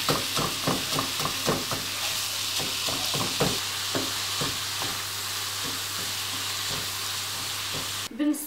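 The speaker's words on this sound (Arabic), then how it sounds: "نشحرها ونفرزها." About 400 g of kofta minced meat fries in a pan with a steady, bright sizzle. A spatula taps and scrapes in an irregular rhythm across the whole stretch, and nobody speaks.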